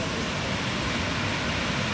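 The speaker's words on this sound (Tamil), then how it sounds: "ஃபால்ஸ்லேருந்து வர்ற தண்ணி கொஞ்ச தூரத்துக்கு முன்னாடி இருந்தே வர ஆரம்பிச்சிருது, அந்த சத்தம் கேட்குது." Steady, dense roar of rushing water from Thirumoorthy Falls (Panchalinga Falls), continuous broadband noise with no breaks, moderately loud and filling the whole stretch.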